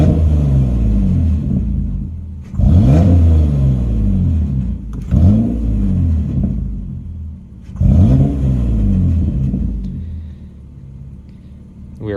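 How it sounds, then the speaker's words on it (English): A car engine is revved repeatedly during sensor testing, giving three strong throttle blips that rise and fall in pitch above a steady idle rumble, close and loud. "Now, if we rev the engine"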